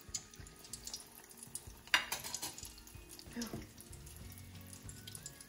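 Anise-flavoured Spanish doughnut rings (roscos de anís) dropped into hot frying oil, giving a steady close sizzle with a brief splash as the dough goes in, and a few light kitchen clatters.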